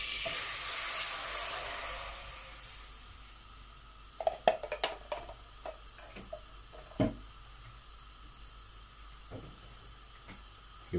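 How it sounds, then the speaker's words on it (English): Chicken stock hits melted butter in a pan, giving a loud hiss at first that fades into a soft sizzle with scattered clicks and pops from the pan. "I'm adding in now my chicken stock."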